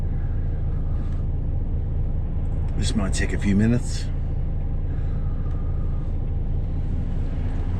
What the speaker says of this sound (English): Stuck in a traffic jam now